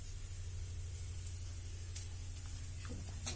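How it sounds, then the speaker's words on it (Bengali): Pumpkin and vegetables fry in a pan, giving a steady, close hiss of sizzling oil that holds evenly throughout with a few faint clinks near the end. "কুমড়ো ও রামাইশ ভাজা করা হবে"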